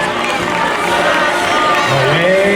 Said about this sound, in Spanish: Fuerte aplauso para todos los esgrimistas de Italia